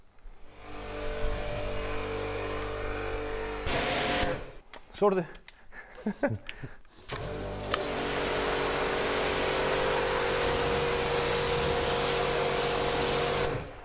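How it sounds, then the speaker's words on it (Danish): A pressure washer sprays water over a car with a graphene ceramic coating, a loud steady hiss in long bursts broken by a pause where a person briefly speaks, then the spray resumes strongly. "Afspulning."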